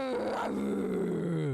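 A person's voice imitates a lion's roar with one short, throaty, growling roar that stays loud and close from start to finish.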